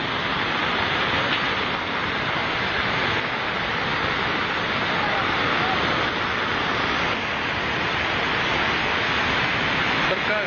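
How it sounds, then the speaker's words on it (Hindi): Floodwater after heavy rain rushes through a vegetable market by the Sarkaghat bus stand, a loud, dense, unbroken roar of churning water with a faint voice buried beneath. "सब्जी मंडी में पानी घुसा, दुकानों के ऊपर से पानी निकला"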